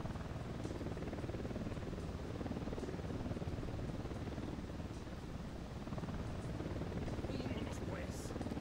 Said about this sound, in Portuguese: Helicóptero da unidade, se abaixe.